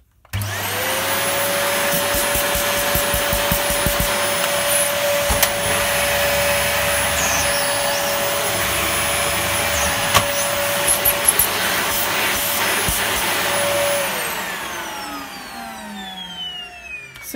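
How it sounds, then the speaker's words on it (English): Dyson upright vacuum, DC14 or DC40, whirs at a loud, steady pitch with its brush roll spinning, close up and running alone, then powers down and winds away near the end. "Blimey, it sounds like that brush roll's gonna take off."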